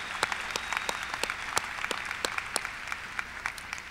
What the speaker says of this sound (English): Please join me in applauding these exceptional students on this very special evening of their lives.